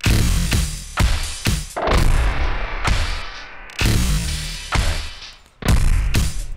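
A dense, loud music mix with every track at full volume, punchy drum hits and layered instruments all competing at once, cluttered and busy; a voice briefly speaks.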